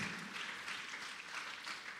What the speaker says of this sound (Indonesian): Sekali lagi kita kasih tepuk tangan buat paduan suara Eka Risto.